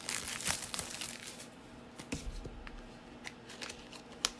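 Stampin' Up paper products being unwrapped, with quiet, close crinkling and rustling of plastic packaging and a few soft tearing snaps, no talk.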